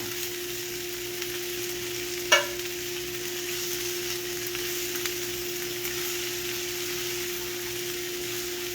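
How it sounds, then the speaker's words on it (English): Onions frying in a pan with a steady, even sizzle and occasional stirring, plus one sharp clink around the middle, with no talking. "we're going to stir this around and let those onions cook down"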